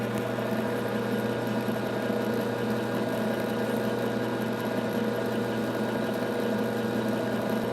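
A metal lathe spinning a ring while it is sanded with fine 2000 or 2500 grit paper, giving a steady motor hum with tonal whine and faint rubbing beneath, continuous and close.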